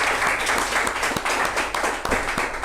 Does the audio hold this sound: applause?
yes